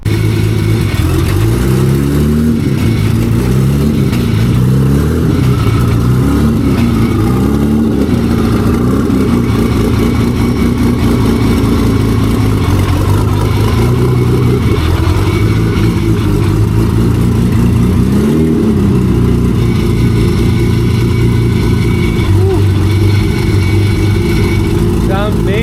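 A Nissan drift car's engine rumbles loudly for a long stretch, idling with repeated revs rising and falling, close up and dominating the scene.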